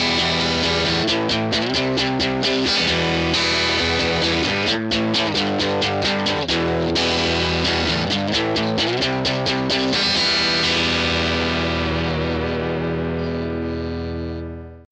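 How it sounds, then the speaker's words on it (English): An electric guitar plays through a crunch amp simulation on a UR-RT interface's DSP effects, with loud, driven chords and quick strummed bursts that sustain and then fade out at the end. "let's try and add the second guitar amp simulation, which is the crunch"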